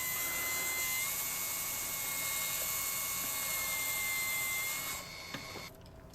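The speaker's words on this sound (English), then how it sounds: "I cut it to length with my track saw" Track saw cutting a butcher block countertop to length, a sustained high-pitched motor whine with blade noise running steadily, then dropping off near the end as the cut finishes.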